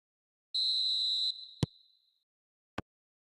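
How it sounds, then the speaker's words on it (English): A referee's whistle in the football video game eFootball PES 2020 gives one clean, sustained blast at a steady pitch, followed by two sharp clicks, in a quiet mix with no talk. "Whistle goes, and we start the second half."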